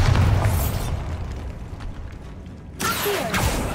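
Bursting magical blasts of the Bombarda spell in Hogwarts Legacy: a loud booming burst at the start, a quieter lull, then another sharp burst, with no voices.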